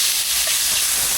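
Mushrooms frying in a pan with onion and garlic give a steady, loud hiss of sizzling that barely changes over the short stretch.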